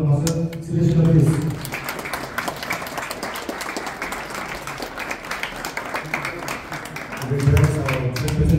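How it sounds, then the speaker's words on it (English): Audience applause rings out through most of the stretch at a trade skill presentation, a dense, steady patter of many hands clapping, with a speaking voice briefly heard at the start and again near the end. "Can you have a round of applause for the master?"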